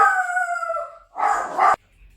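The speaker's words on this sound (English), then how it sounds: "Bee is going to bark because Ross has just come home" A pet dog named Bee at home gives a drawn-out, wavering howl, then a short, harsh, noisy burst that sounds like a bark. The dog is close, fairly loud and alone, and the burst ends abruptly.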